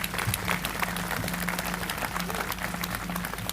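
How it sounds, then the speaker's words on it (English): Sustained crowd applause at an outdoor DC police memorial dedication ceremony, dense clapping throughout with a faint voice or hum underneath. "give him another round of applause"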